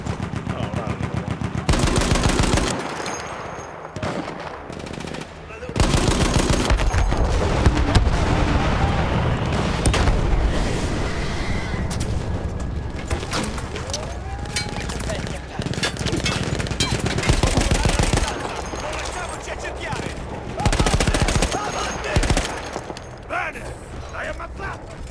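Dense, sustained gunfire from Battlefield 1 weapons, with rapid automatic bursts and heavy shots rolling almost nonstop at close range, along with a few brief lulls and some background voice.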